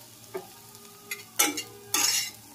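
Soya chunks fry in a small amount of oil in a pan, with a few scraping stirs followed by short bursts of sizzling as they are turned, close and moderately loud.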